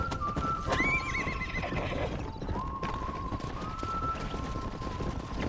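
A horse in the video game Red Dead Redemption whinnies in a long rising call, with trotting hooves and a busy rumbling background.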